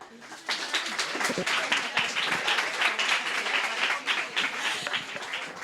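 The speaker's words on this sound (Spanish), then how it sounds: "Un fuerte aplauso para María, por favor" An audience at a Pint of Science talk on coastal ecosystems breaks into sustained, dense applause that fills the room for several seconds, with a few voices mixed in.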